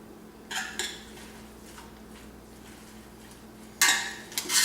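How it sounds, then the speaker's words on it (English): A metal utensil clinks and scrapes against a pan as seasoning is mixed into food with onions: two short bursts, a quiet stretch, then a louder clatter near the end, with no voices. "Mix that seasoning in."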